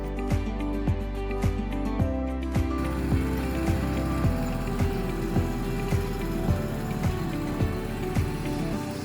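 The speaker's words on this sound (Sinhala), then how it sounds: "මෙන්න මේ වගේ තනකොළ මැෂින් වල සද්ද නිසා තමා වතුයායේ සමහර ලස්සන ශබ්දවල් මට ඕගොල්ලන්ට අහන්න දෙන්න බැරි වෙන්නේ." A grass-cutting machine runs nearby on an Italian farm estate, giving a steady mechanical drone with a regular rapid ticking, rattling pulse that continues throughout without talk.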